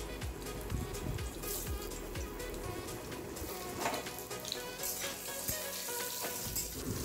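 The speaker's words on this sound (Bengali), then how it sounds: "এবার তেলের মধ্যে দিয়ে দেব কেটে রাখা আলুর টুকরোগুলো।" Cut potato pieces drop into hot oil with tempered spices and fry, a loud crackling sizzle with bubbling spits and a few stirring scrapes, close and continuous, no voices.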